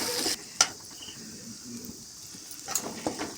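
Mustard seeds and urad dal fry in hot oil in a pan for a pirandai pickle, giving a faint, steady sizzle with a few brief crackles and pops near the start and end.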